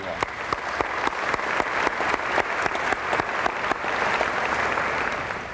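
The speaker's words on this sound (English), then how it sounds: "You need a round of applause on that." University convocation audience gives a round of applause, a steady moderate wash of many hands with individual sharp claps popping out near the listener.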